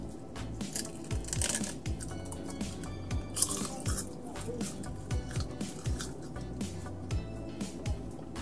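Crispy seaweed snack from a Korean convenience store being chewed up close, with crackly, irregular crunches and wet mouth sounds running throughout, mixed with some talking.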